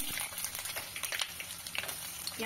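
Onions hitting hot oil with bay leaves for a duck curry, producing a close, continuous crackling sizzle with crisp spits over a short stretch.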